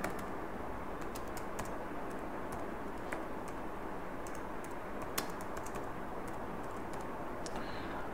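Computer keyboard typing while a text box is filled in a Microsoft Excel spreadsheet, a faint, steady patter of soft key clicks under a constant background hiss, with a few sharper taps standing out.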